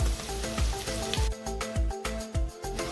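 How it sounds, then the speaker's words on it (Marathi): Onions fry in a pan over a high flame as ginger-garlic paste goes in, giving a steady sizzle beneath rhythmic background music with regular low thumps. "एक मिनटं कांदा परतवून घेते मोठा चमचा भरून आळा लसूण पेस्ट घालूया"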